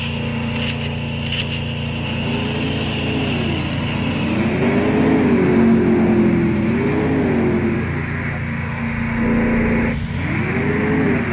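A car engine in the Free Fire video game drones steadily, its pitch rising and falling in repeated revving swells, with small clicks layered over it.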